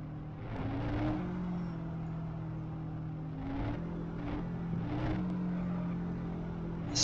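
White sports racing car engine in an Android driving game, a steady synthetic hum with tonal pitch steps as gears shift, moderate and continuous, no talking.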